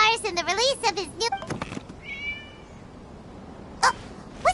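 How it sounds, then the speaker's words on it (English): A cat meows several times in Genshin Impact, drawn-out wavering cries up front followed by a couple of short chirps later, mixed with ambient game sounds. "It was just a cat."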